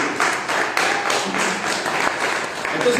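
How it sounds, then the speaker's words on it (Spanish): A church congregation claps together in praise, a dense burst of hand clapping with rhythmic surges, fairly close and without talk over it. "Dale un aplauso al Señor"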